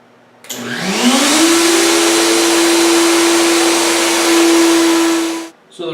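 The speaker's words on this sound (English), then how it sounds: "we're just going to route now for the plate." Router cutting a groove for a plate in a wooden table vise build spins up with a rising whine into a loud, steady high-pitched roar with a hissing edge, holding for several seconds before cutting off abruptly.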